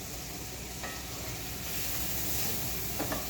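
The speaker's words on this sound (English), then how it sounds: "Just throw a little onion and get it happy in the pan." Onion sautéing in fat in a pan, a steady close sizzle and hiss with a couple of faint clicks and stirring sounds, no talk.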